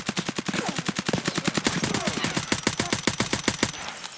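Rapid burst of automatic 7.62x39 rifle fire emptying a full magazine in Escape from Tarkov, a steady string of sharp, evenly spaced shots lasting several seconds, loud and close.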